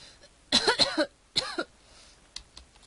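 Two harsh coughing bursts close to the listener, the first a rapid cluster and the second shorter, followed by faint clicks and quiet.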